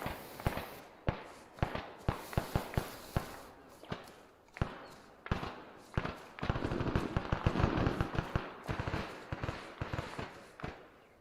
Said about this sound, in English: I see a lot of tracer fire between you two.